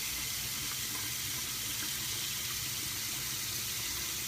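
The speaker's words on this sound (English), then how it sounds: "I'm going to put a little bit of hot water in here just for a second." Hot water runs steadily from a bathroom tap into a sink, a continuous broad hiss with no talking, heard during a straight-razor wet shave.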